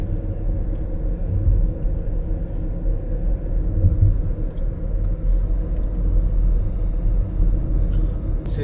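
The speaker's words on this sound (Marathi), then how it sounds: "येणारे ट्रक जे आहे ते सिलचरच्या दिशेने चालले." Heavy trucks roll past on a highway bound for Silchar, a continuous deep rumble of engines and tyres that stays steady and fairly close, with no talk over it.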